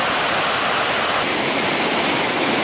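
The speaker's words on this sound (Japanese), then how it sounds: "滝綺麗ですね。" Awamata Falls roars as a steady, dense wash of falling water, loud and close, with no pauses and no voices.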